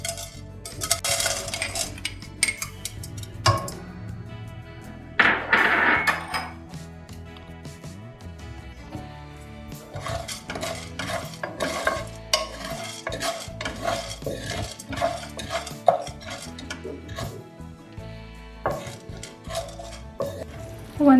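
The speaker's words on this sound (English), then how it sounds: "add 1 tablespoon ghee to the pan. Once the ghee starts melting," Jaggery melting in ghee in a pan, stirred with a metal utensil: continuous scraping and clinking against the pan over a soft sizzle, close and fairly busy, with no talking.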